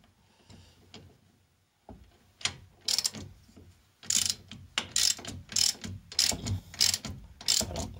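A ratchet wrench tightens a steering ball joint nut on a car, a series of sharp rhythmic clicking strokes growing more regular toward the end, close and moderately loud.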